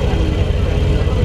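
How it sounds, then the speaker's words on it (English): Porsche 911 GTS pulling away at a supercar weekend event, a deep engine rumble close by with a voice talking over it. "Porsche 911 GTS departing"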